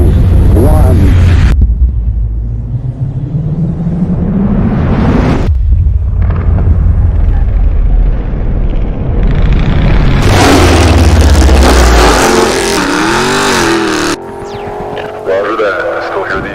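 A rocket engine roars to life after a countdown, with loud rumbling bursts, rising and falling tones and crackling exhaust noise filling the stretch, broken by brief cuts.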